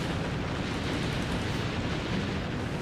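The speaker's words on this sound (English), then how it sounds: "Enemy ship sunk." Enemy warship sinking in the naval combat game Naval Ops: Warship Gunner 2, a sustained heavy rumbling explosion with dense low booming roar, steady and loud throughout.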